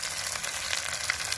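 Fish fried in hot oil in a kadhai gives a steady, dense sizzle that stays close and loud with no let-up and no voices.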